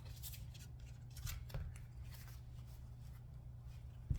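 Tarot cards are handled and shuffled in a quiet room, giving soft, faint papery riffles and light flicks spread over a few seconds, with one small tap near the end.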